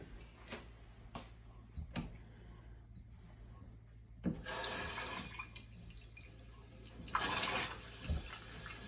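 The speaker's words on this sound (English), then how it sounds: "Now we have to wash our hands because they can get pretty sticky." A kitchen tap is turned on and water runs into a sink for hand washing, a steady close splashing rush that begins after a few faint clicks and drips, with brief surges.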